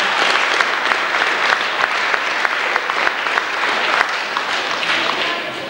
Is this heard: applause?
yes